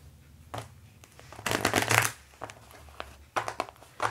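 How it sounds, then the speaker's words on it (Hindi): Tarot cards are shuffled by hand in several close, crisp bursts of riffling and flicking, separated by short pauses. "काफ़ी पेंटिकल्स के कार्ड्स मुझे दिख रहे हैं वाइल शफलिंग"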